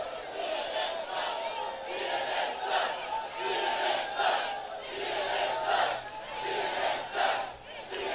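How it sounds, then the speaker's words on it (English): A huge crowd at Coachella yells a chant in rhythmic, repeated bursts, loud and sustained throughout with no clear speech over it. "You got that huge crowd at Coachella to yell CNN sucks."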